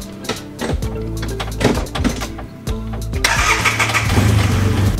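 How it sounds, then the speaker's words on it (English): An Arctic Cat Wildcat 700 Sport side-by-side with an upgraded clutch starts up, with several cranking bursts before the engine catches and settles into a loud, steady idle close by. "So I'm just gonna sit inside, start it up."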